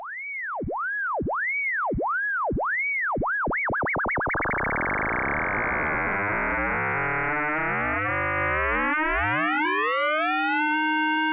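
Intellijel Rubicon 2 eurorack oscillator under exponential FM: a sine tone swoops up and down in repeated wobbles that speed up into a dense, buzzing, metallic cluster of sidebands, shifting and gliding steadily, loud and continuous with no talk.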